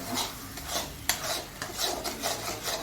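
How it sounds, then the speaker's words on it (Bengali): Mashed taro is stirred slowly in a pan over low heat, producing close, rhythmic rasping scrapes of the spoon across the pan's surface, repeated in steady strokes with one sharper knock partway through. "এটা হালকা আঁচেতে দিয়ে নাড়তে হবে আস্তে আস্তে করে, যাতে এটা পুড়ে না যায়।"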